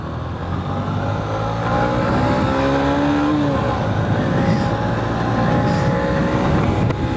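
A derestricted 2023 Honda CB125F motorcycle with performance upgrades and a freshly fixed clutch launches and accelerates, its single-cylinder engine droning loudly close by as the revs climb through gears amid steady wind and road noise.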